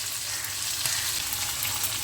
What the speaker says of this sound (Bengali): পটলটা ভাজা ভাজা যতক্ষণ না হবে, মাঝখানে শুধু নেড়ে নেড়ে দেবো।